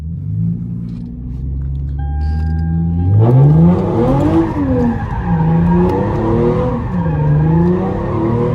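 An automatic Hyundai Genesis Coupe does donuts: a steady idle swells into a loud, close engine roar that rises and falls in repeated waves, mixed with skidding tire squeal.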